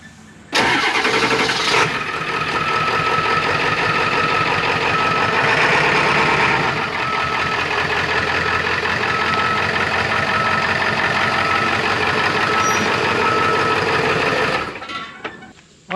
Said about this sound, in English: back the dump truck up, and this one is ready to rock